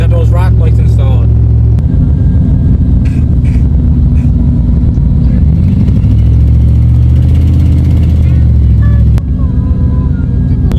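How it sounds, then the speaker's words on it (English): A Dodge Ram pickup truck rumbles along a road on a test drive, with a low, steady engine drone and occasional shifts in pitch, while people talk over it. "So we're out on a little test drive now."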